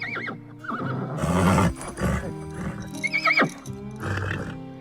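Horses whinny and neigh several times, close by, with hooves shuffling and clopping in between.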